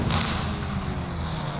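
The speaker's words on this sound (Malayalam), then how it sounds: "അയ്യോ, ഏതോ ബൈക്ക് പൊട്ടിത്തെറിച്ചിട്ടുണ്ട് ഗൈസ്." A motorbike explodes in the video game Indian Bike Driving 3D: a loud, steady, rumbling blast that fills the whole short moment with no gaps.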